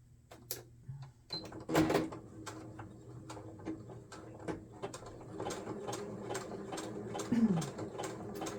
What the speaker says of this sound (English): I am just going to randomly just stitch right down the center.